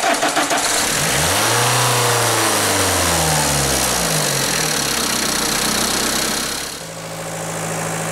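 Car engine cranks and catches, revving up then settling to a steady idle with the air-conditioning compressor engaged, loud and close, followed by a lower hum as the load shifts; no speech.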